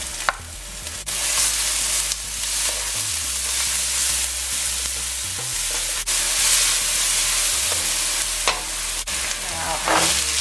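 Onion, wiri peppers and garlic frying in hot oil for a vegetarian pumpkin fry, a steady loud sizzle with stirring and occasional scrapes, no talking.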